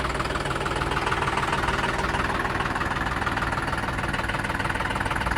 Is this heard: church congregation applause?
no